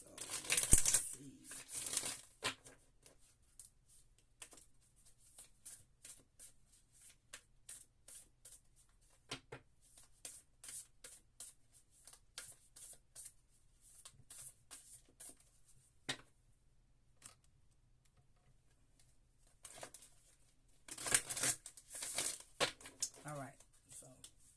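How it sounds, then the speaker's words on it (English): Tarot cards being shuffled by hand, quiet papery riffles and flicks in scattered bursts, louder clusters at the start and near the end, with soft speech around them. "we're going to shuffle good."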